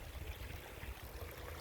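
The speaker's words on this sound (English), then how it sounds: "the temporary pond dam is broke, and the water is running downhill into the deep end of the big" Water from a broken temporary pond dam running downhill into the deep end of a large pond, a faint, steady low rushing and trickling flow with no voices.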